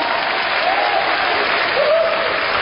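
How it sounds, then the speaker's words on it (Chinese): An audience claps in a dense, continuous burst of applause at a live stage show, loud and close throughout the short stretch. "掌声鼓励一下钟清明老师。"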